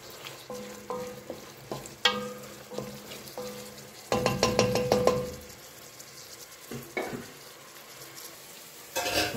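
Onion softening in a pan for garlic ghebe mushrooms, stirred constantly with repeated scraping strokes over a steady sizzle, with louder bursts of stirring partway through.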